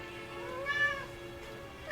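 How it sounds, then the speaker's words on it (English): A kitten meows in a movie scene, one drawn-out, high, wavering cry that swells midway, close and clear over a faint background hum. "It's a kitten."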